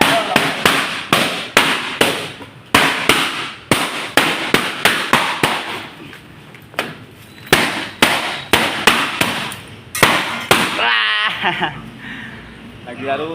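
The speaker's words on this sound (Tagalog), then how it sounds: "Ayan, putok ang lobo." Balloons burst one after another at an event setup, a rapid series of sharp, loud pops with uneven spacing, and voices talk in between.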